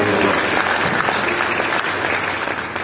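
Loud, dense applause from a church congregation during a sermon, many hands clapping steadily and close throughout, with a faint murmur of voices mixed in.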